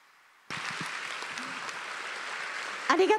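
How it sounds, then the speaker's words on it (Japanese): An audience applauds at the close of a winter jazz festival night in Kagoshima, a dense, steady wash of clapping that starts abruptly and holds, with a voice rising over it near the end. "どうぞ皆様今日一番大きな拍手をどうぞお送りくださいませ"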